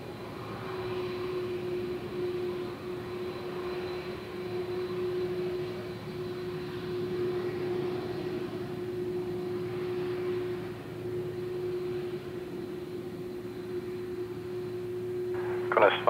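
A Qantas airliner takes off from runway 03, its engines giving a steady, sustained roar with a constant tone throughout, and a brief louder burst near the end.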